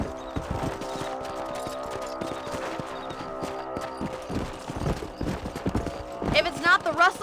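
Horse hooves gallop in the Red Dead Redemption video game, giving a quick rhythmic clip-clop under a rider's voice, with a brief whinny toward the end.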